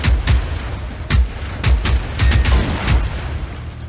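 Hip-fired gunfire in Generation Zero: a loud burst of rapid gunshots in uneven clusters over about four seconds, each shot sharp with a heavy low thump.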